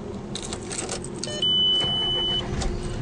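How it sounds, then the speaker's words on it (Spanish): A 2011 Volkswagen Jetta Clasico Sport automatic starts, with a brief starter whine and a steady engine hum beneath a high electronic tone inside the car. "El vehículo enciende correctamente."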